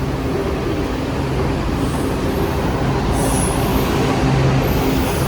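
A Washington DC Metro Blue Line train rides from Franklin Springfield toward the city, heard from inside the car as a loud, steady rumble and rush of wheels on track, with faint high squeals throughout.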